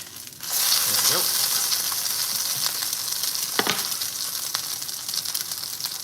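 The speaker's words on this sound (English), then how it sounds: "let's flip our egg real quick." An egg sizzles steadily in a hot pan for burgers, a constant loud frying hiss with a brief scrape and clack as it is flipped, and no talking.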